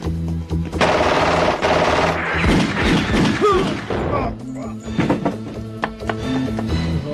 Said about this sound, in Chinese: 他一放下车，二话不说就开枪了，砰砰砰砰